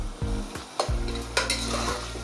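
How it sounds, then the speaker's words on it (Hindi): Chopped tomatoes and yogurt hit a hot pan for aloo keema, giving a loud, steady close sizzle with a few scraping stirs of a spoon across the short stretch. "अब हम उसमें टमाटर ऐड कर लेंगे।"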